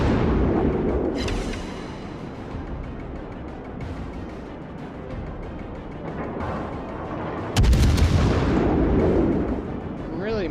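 A cruiser's rear guns fire in the naval battle game World of Warships: a low rumbling bombardment builds to one loud, heavy blast near the end, with game ambience throughout.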